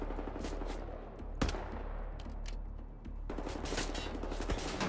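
Gunfire in the video game Wolfenstein: The New Order: rapid automatic bursts over a low rumbling background, with a sharp single shot near the start and a louder stretch of firing toward the end.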